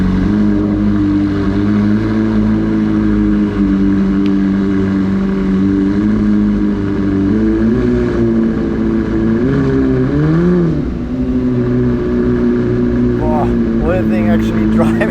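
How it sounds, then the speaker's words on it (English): A McLaren 765LT supercar engine drones steadily and loudly from close range as the car pulls out of Motorworld Munich, with pitch shifting as it moves off and someone speaking over the engine. "here we go in our very own 765 LT. Take her out"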